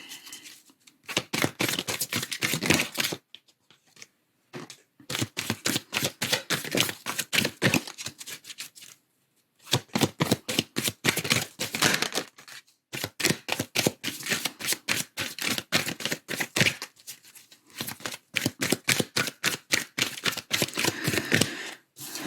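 Oracle cards are shuffled in quick riffling bursts of crisp, rapid flicks that come in several runs with short silent pauses between them, close and with no talk.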